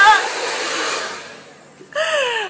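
Professional hair dryer with adjustable heat settings blowing strong air, a loud steady whooshing roar close to the listener that eases off briefly, then a higher whine as it picks up again.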